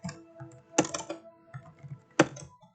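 Fingers type on a computer keyboard while writing Python code, producing quick clusters of soft key clicks with a few sharper, louder strikes, close and with no talking.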